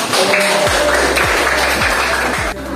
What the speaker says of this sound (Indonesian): silakan duduk tepuk tangan kelompok